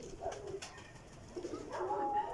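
Pigeons of a fancy show bloodline coo softly in a rooftop loft, several low, rolling calls in quick succession, close by but quiet, with no talk over them.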